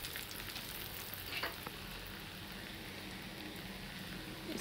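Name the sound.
egg balls deep-frying in hot oil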